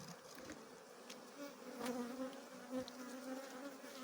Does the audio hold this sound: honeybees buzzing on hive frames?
yes